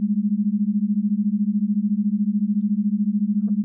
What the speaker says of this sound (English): So now we are in alpha with 14 hertz difference.